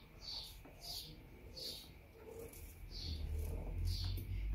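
A lost bird calls outdoors with a high, thin chirp repeated about five times at a steady pace, faint and somewhat distant over a low background rumble.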